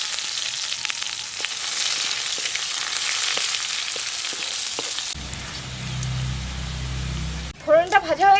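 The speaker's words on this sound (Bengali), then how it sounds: "পেঁয়াজটা দিয়ে দিচ্ছি।" Onion dropped into hot oil in a kadai with panch phoron, dried red chilli and bay leaf, sizzling loudly for about five seconds before fading to a low hum, with a voice speaking briefly at the end.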